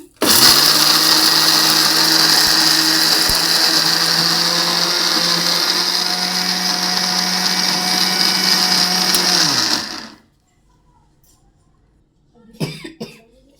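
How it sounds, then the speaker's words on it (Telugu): A mixer grinder whirs loudly and steadily for about ten seconds while grinding green chillies for chutney, then stops abruptly; a short cough follows near the end. "మిక్సీలో గ్రైండ్ చేసినాక ఇట్లా వచ్చేసింది మొత్తము"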